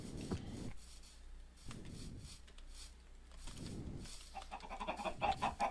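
Quiet scratchy clucking bursts in a few short spurts, faint and thin, with a low steady hum underneath.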